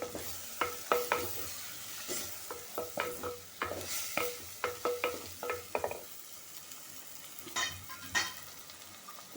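Val beans tipped into hot oil for a Maharashtrian bhirda dish, sizzling in the pan while a spoon stirs and scrapes in frequent sharp, close clicks and taps with no talking.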